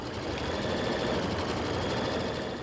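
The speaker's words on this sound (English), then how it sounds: "Embroider the design." An embroidery machine stitches a design onto nylon screen, giving off a dense, steady mechanical whir and rapid needle rattle that stays constant and loud throughout.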